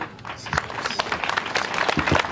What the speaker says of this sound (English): Let's clap once again for our guests